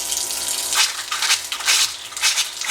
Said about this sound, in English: Go along and push all the water out, hot and cold.